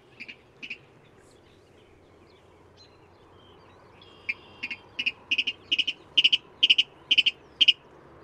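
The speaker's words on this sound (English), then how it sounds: "they also make a call that's called a kadik call. It goes kadik, kadik, kadik, kadik, kadik, and it gets faster as it goes" A marsh bird gives its kadik call. A couple of faint notes come first, then a run of sharp, distinct double notes that grow louder and come faster and faster. The calls sound moderately close, set against a quiet background hum.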